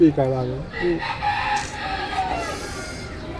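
A rooster crows loudly and close, its harmonic call dominating the opening, with a brief second burst following and French speech carrying on over the rest.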